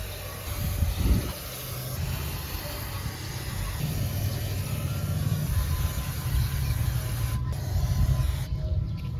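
Cleaner sprays steadily onto the CVT parts of an ADV 160 scooter, a continuous loud hiss that runs throughout with a low rumble underneath.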